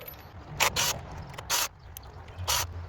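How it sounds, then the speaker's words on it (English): Ignition coil bolts are being loosened with a ratchet on a Chrysler 200 engine, three short, close bursts of rapid ratcheting clicks separated by pauses. "So I'm gonna loosen all these bolts."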